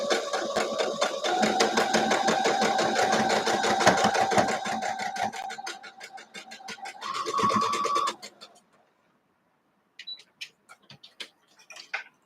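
Sewing machine running steadily as it stitches a quilt block, a fast rhythmic mechanical whir close up for about eight seconds, then stopping, followed by a few faint clicks and taps.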